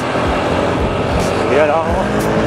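A motorcycle with a 63.5 mm bore engine and 19/22 head combo revs loudly up close, its engine note rising and falling alongside a noisy rattling disc, while people talk over it.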